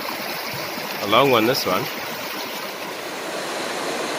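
Steady broadband rush of a river stream flowing over rocks at night in the Wulai forest, Taiwan, running continuously throughout while someone speaks briefly over it partway through.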